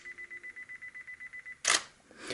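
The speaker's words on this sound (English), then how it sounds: "Now you just heard the sound of that fake shutter" An Asus phone's simulated camera shutter, used as a remote trigger for a Neewer SmartGrip on a Nikon D7100 or D7200, clicks once sharply after a run of evenly spaced countdown beeps, followed by a softer second click.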